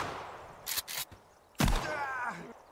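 Gunfire in the video game Sons Of The Forest, a couple of quick sharp shots followed by a louder blast with a lingering tail, faint overall, with a brief voice near the end.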